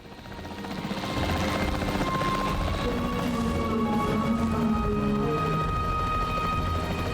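Capture team helicopter in Jurassic World Evolution 3, a steady loud rotor drone with engine hum that fades in over the first second and then holds constant, with no talk.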